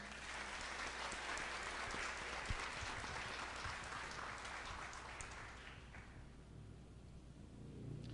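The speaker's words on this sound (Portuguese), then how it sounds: "saudemos esses nossos irmãos e irmãs com uma salva de" A congregation at a Catholic confirmation Mass claps in sustained, even applause that fades toward the end of the eight seconds.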